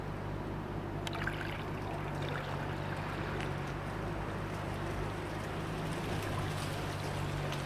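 Liquid poured off the top of a settled bucket of ground IC chip material, a steady soft trickling stream that runs continuously at close range over a low background hum.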